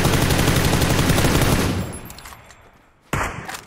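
Rapid automatic gunfire from the battle-royale game PUBG rattles loudly for almost two seconds, fades into quieter rumble, then a second short, sharp burst of shots snaps out near the end.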